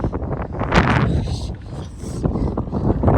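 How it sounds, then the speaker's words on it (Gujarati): Strong headwind buffets the microphone while cycling downhill, in heavy, rumbling gusts that swell and ease over a few seconds. "ઉતરતા ઢાળમાં બી પેન્ડલ મારવા પડે છે એટલી બધી હવા આવે છે"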